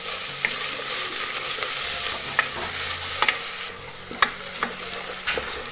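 Chopped onion fries in a hot pan, sizzling loudly while a utensil stirs and scrapes it, with sharp clicks and scrapes breaking through the steady crackle.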